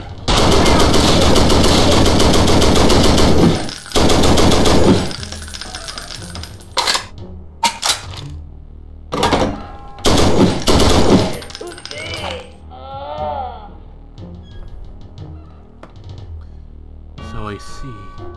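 MG42 machine gun fire in the Brutal Wolfenstein video game: loud, dense bursts of very rapid shots broken by short gaps, followed by quieter clinks and game effects, with voices talking in places.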